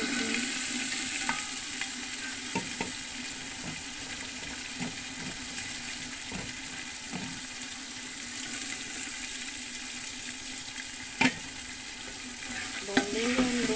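Peas frying in a pan for matar pulao, producing a continuous sizzle with scattered clicks and scrapes as they are stirred, close and moderately loud.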